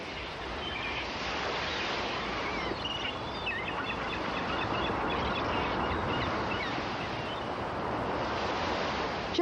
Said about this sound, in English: the waters of the Delaware Bay calmly lap the pebbled beach